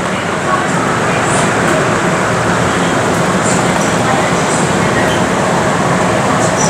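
A passenger train pulling away from Chhungchhung railway station, a loud continuous rumble and rattle from inside a nearly empty carriage, steady throughout with faint higher squeals and hiss.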